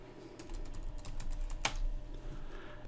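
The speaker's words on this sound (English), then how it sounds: "Now let's go ahead and type the correct password." A password being typed on a computer keyboard, a quick close run of key clicks with one sharper louder keystroke partway through and no voices.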